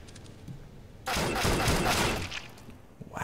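Auto sniper rifle fire in the video game CS:GO, a loud, dense burst of shots lasting about a second and a half, then fading into quieter game noise.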